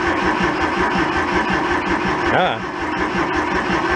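An abandoned Kubota tractor's engine runs loudly and close up in a steady, rough mechanical drone, with a short rising-falling surge partway through before settling back to a steady idle, and a brief voice heard.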